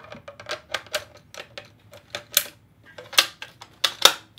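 A smooth rifle bolt worked in and out of its receiver, giving a quick series of close metallic clicks and slides with crisp, irregular bursts.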